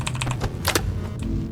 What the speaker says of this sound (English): you can hear me spamming the keyboard in some footage